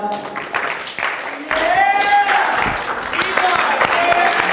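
Classroom audience in a lesson clapping for a student named most attractive cow, loose applause mixed with voices and a sung or sustained tone, people talking and laughing over the clapping.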